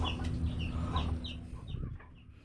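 Chickens cluck nearby in short, scattered calls over a low steady background hum.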